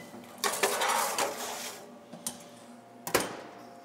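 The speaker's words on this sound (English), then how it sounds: "So in the oven it goes." A prime rib roast in its pan goes into a kitchen oven with a few close metallic clanks and scrapes, one burst of clatter followed by quieter knocks and a final sharp clunk, with no talk.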